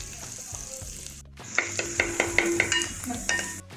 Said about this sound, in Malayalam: നമ്മൾ അരിഞ്ഞു വെച്ചിട്ടുള്ള ഇഞ്ചി വെളുത്തുള്ളി പച്ചമുളക് ഇത്രയും ഇട്ട് കൊടുത്ത് നന്നായി മിക്സ് ചെയ്ത് നമുക്കിതൊന്ന് വഴറ്റിയെടുക്കാം